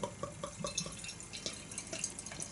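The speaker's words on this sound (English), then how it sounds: "we'll get it out and into the glass" Beer poured into a glass, a Slovenian Brut IPA from Pivovarna Reservoir Dogs, gives soft, quiet liquid trickling and dripping with a few small splashes throughout, fairly faint and close.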